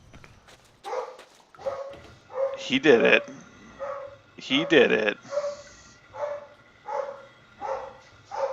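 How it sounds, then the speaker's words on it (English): Dogs in the Blade of Darkness video game bark excitedly in repeated bursts, loud and close, with yips between barks while a voice speaks over them. "The dogs are so excited for him."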